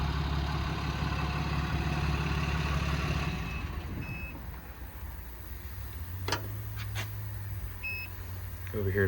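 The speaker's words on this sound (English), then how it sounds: "And also restart the truck as well." A 2016 Ram 5500 with a Cummins diesel engine and a Summit 6620 crane restarts by remote and settles into a steady low idle, with faint beeps and clicks above the rumble.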